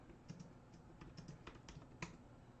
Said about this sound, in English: And you're typing that in the chat?